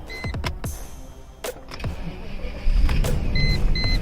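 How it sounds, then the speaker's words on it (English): A 1998 Mercedes S500 is started, with clicks and whirring of electrical components, then the engine catches and settles into a low steady idle, followed by short chimes. "now we'll start the car and see how exactly it's acting out"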